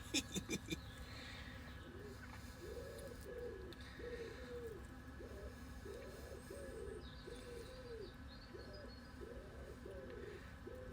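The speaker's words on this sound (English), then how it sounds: "You're never far away from a pidge around here." A pigeon cooing outdoors in a repeated run of soft, low, rounded coos at moderate distance, following a few brief clicks at the start.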